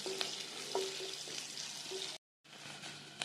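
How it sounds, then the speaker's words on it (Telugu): Sliced onions and green chilies frying in a pan for a cabbage and chana dal curry, a soft continuous sizzle with occasional stirring clinks, briefly cut off then resuming. "ఉల్లిపాయలు వేసుకోవాలి, పచ్చిమిర్చి వేసుకోవాలి, కలుపుకోండి. కొంచెం ఎర్రగా వేగాలండి."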